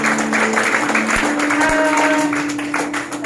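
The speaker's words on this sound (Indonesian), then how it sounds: "Kita boleh tepuk tangan buat Tuhan ya." Clapping from a congregation at a church service, heard over sustained tonal music or hum, with a couple of sharp thumps partway through.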